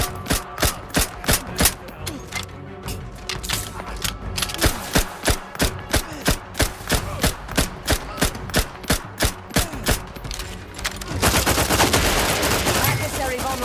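Rapid gunfire in the video game Outer Worlds 2, a long series of sharp, evenly spaced shots crackling in steady rhythm, with a denser burst of fire near the end and faint game voices underneath.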